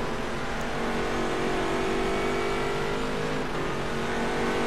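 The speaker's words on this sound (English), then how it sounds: "Yet another GT3 car to battle past." GT3 race car engines in an rFactor 2 race at Silverstone, a steady loud droning roar held at high revs throughout, close and continuous, with faint tire noise.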